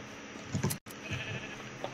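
Sheep bleat in the Minecraft video game, two short close bleats in quick succession over a steady game background.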